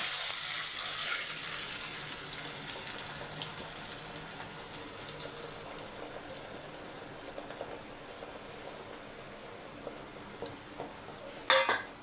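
Garlic sizzles in a hot pan as cooked drumstick leaves are added, a steady hiss fading under scattered clinks of utensils against the pan, with a sharper metallic clatter near the end.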